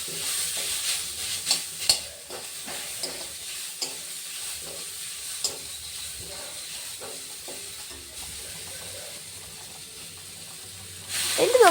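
Paneer masala with ginger being stirred in a pan, a steady close sizzle and fry hiss broken by repeated spoon scrapes and clacks against the metal, with a louder burst of sizzling at the end.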